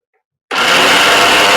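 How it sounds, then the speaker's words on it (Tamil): After a moment of silence, a mixer grinder starts up abruptly and whirs loudly and steadily, grinding a thick coconut paste. "இதை இப்போ பேஸ்ட் மாதிரி அரைச்சி எடுத்துட்டு வந்துருங்க."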